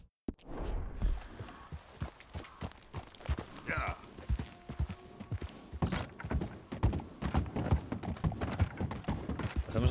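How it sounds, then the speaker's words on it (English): A horse's hooves pound at a fast gallop in Red Dead Redemption 2, a rapid, steady clip-clop rhythm close by, with someone talking over the hoofbeats. "Vamos con este caballo. Corremos como el viento."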